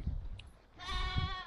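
Goats bleating on a farm, a long wavering cry with steady harmonics rising after a short quieter stretch, close and fairly loud over low rustling and handling noise.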